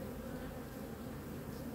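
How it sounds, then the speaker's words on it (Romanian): Swarm of honeybees buzzing as a dense, steady drone close by, loud and unbroken as extra bees are added to a colony that swarmed. "Aici mai bag niște albine."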